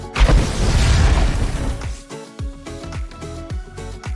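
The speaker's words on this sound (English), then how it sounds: "killing undead may cause an explosion" Minecraft mod explosion triggered by killing undead: a loud booming blast with rumbling debris that fades over about two seconds, followed by a series of quick, rhythmic game sound effects.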